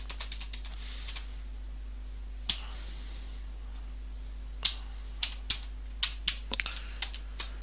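A passphrase is typed on a computer keyboard while setting up Linux LUKS encryption: faint, scattered key clicks come in irregular bursts over a low, steady hum, with quiet pauses between them.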